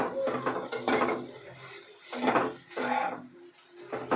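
Spices and aromatics being stirred and sautéed in a pan over a gas flame, with repeated scraping and clinking of a utensil against the pan and a light sizzle underneath, close and fairly steady.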